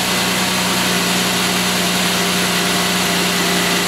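Steady idle from the 3.9L V6 of a 2006 Pontiac G6 GTP under diagnosis for a coolant temperature sensor fault, a constant close engine hum with a fixed low drone and no talking.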